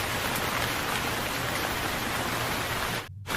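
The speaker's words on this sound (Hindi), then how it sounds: "बारिश की बूंदें खेतों को भिगोने लगी।" Steady rain falls over open farm fields with mustard in flower on a cold day, a dense even hiss of drops that stays loud throughout and drops out briefly near the end.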